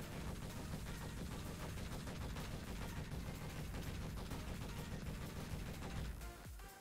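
Scatter cannons firing in the video game Space Engineers, a dense continuous barrage of rapid rattling shots at steady loudness that cuts off near the end, with no talk.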